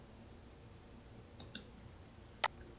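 A single computer mouse click gives a sharp, brief tick in a quiet room, with a few fainter clicks before it and no talking.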